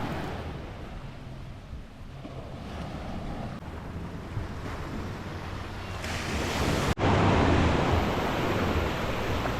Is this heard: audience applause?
no